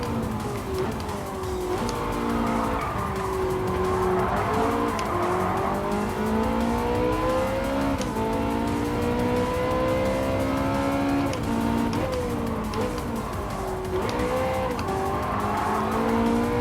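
Race car engine in a five-lap Gran Turismo 7 race, revving steadily with rising and falling pitch through gear changes and corners, loud and continuous for the whole stretch, with tire squeal mixed in and no voices.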